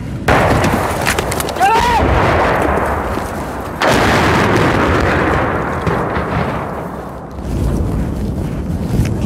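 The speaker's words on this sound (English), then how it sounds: "The shelling is very close." Artillery shelling close by during the war in Ukraine, with heavy booming blasts and a long rumbling roll over wind noise, and voices heard between the impacts.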